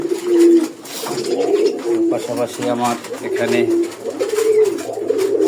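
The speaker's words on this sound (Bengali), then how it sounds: "এখন সবগুলো কবুতর খাবার খাচ্ছে।" Pigeons coo steadily in a cleaned pigeon loft on a farm while feeding, their low rolling calls continuous and close, with a person speaking over them.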